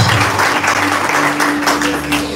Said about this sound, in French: Acclamons encore pour la vie de son serviteur.